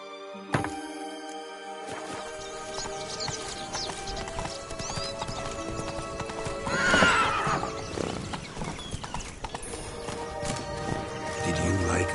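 Roach the horse gallops in The Witcher 3: Wild Hunt, with a steady, rapid clip-clop of hooves throughout and a loud whinny partway through. A voice is also heard.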